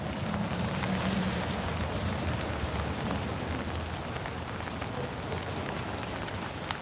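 Rain falling steadily outdoors at night outside an ICE facility in Portland, Oregon, a dense constant hiss of drops on surfaces, loud and unbroken.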